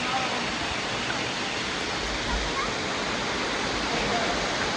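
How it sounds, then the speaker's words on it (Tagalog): Constant rushing roar of a waterfall near Sumaging Cave in Sagada, broad and steady, with a faint voice or two underneath. "Oh, falls yan."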